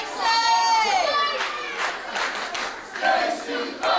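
Wrestling crowd at a title match roaring and cheering for their hero, a dense, loud wall of shouting voices with rising yells and whoops sustained throughout.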